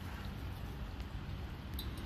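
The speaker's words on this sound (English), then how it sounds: "We got it sitting outside in the rain." Steady rain hisses and patters outdoors, a dense even wash of drops with no voices.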